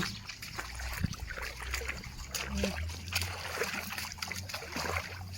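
Water flows over a small waterfall with a continuous splashing, trickling rush, heard at moderate level among faint background voices.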